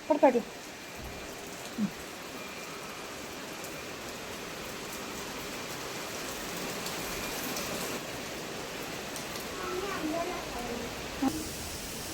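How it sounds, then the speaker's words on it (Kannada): Heavy rain pours down steadily in a dense, continuous hiss, with a few brief knocks and bumps nearby at the start and near the end. "ಮಳೆ ಜೋರಾಗಿ ಬರ್ತಾ ಇದೆ"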